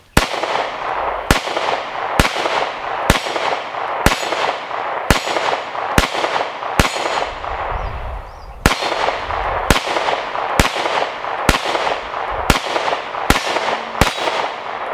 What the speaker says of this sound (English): I'm gonna go and shoot a couple more magazines.